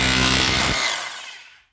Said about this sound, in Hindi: तो ये आप देख रहे होंगे कि ये इस तरह इसके अंदर हम हैमरिंग करते हैं।